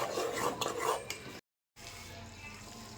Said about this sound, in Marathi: पूर्ण मसाला फ्राय झाला.